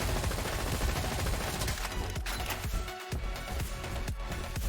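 An Uzi fires in the first-person shooter Roboquest, dense continuous bursts of gunfire packed with rapid shots, loud and close, with a brief gap midway.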